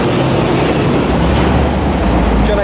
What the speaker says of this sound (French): Ah, le camion est passé